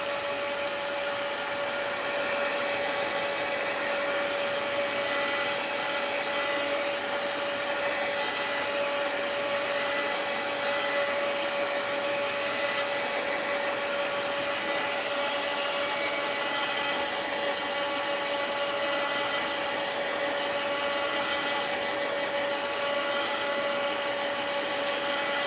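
A handheld heat or paint dryer runs steadily, blowing on the top paint layer of a mixed-media art journal, a continuous broadband whoosh with a strong steady whine, close and loud throughout with no talking.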